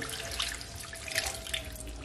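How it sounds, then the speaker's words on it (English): Water poured from a bowl into a cooking pot of honey jerk chicken thighs, a continuous close splashing gush with small bubbly bursts, heard alone. "now I'm just gonna add the water from the bowl just like so"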